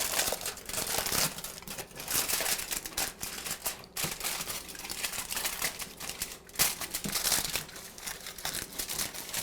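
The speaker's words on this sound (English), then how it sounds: "We're going to line it with tin foil." Continuous crinkling and crumpling of tin foil as an 8x8 baking pan is lined, loud and close, with rapid irregular crackles and no talking.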